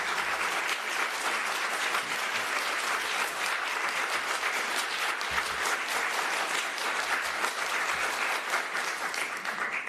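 Steady, sustained clapping from a city council meeting audience in Houston fills the room, dense and even for the full stretch with no pauses and no voices breaking through.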